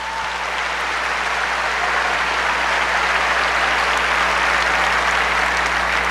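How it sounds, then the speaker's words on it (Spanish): An audience in a church breaks into loud, sustained applause that fills the room evenly, a dense wash of clapping with no talking over it. "un aplauso fuerte para el hermano"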